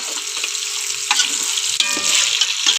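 Beef and spice masala sizzling and frying in a pan, a steady close crackle with a few sharp stirring scrapes partway through, and no voices.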